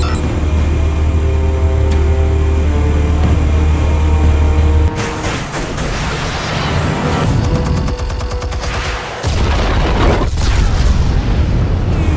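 Explosions in Batman The Telltale Series: a low sustained rumble breaks into a loud blast with crackling debris and rapid clattering bursts, followed by a second heavy boom near the end.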